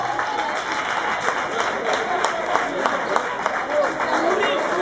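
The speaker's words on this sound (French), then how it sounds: "Est-ce qu'on peut applaudir?" An indoor audience applauds at length, a steady dense wash of clapping with some crowd murmur and voices under it.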